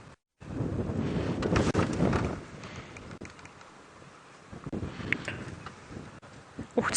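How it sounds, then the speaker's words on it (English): Wind rumbles and buffets the microphone in uneven gusts during a sunset safari drive, loud at first then easing to a softer rush with a few sharp knocks. "Oh, it's so windy at the moment."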